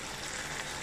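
Spices, tomato and potatoes fry in oil for chicken biryani, giving a dense, even sizzle that stays steady and close throughout the short moment, with no voices.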